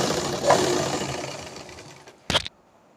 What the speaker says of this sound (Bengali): এভাবে পুরোটা সেলাই করে নেব।